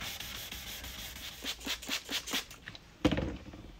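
Quiet sandpaper rubbing over an oxidized plastic headlight in a quick series of rhythmic back-and-forth strokes, ending with a single soft knock.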